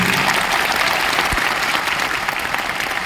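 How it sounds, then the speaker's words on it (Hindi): Loud, dense applause from a large crowd at a 70th BPSC felicitation ceremony in Bihar, steady and continuous throughout, with no pauses. "एक बार जोरदार ताली हो जाइए, ताली हो जाइए।"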